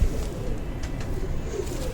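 A pigeon gives soft, low cooing close by, held in the hand during handling, against a steady background murmur over two seconds.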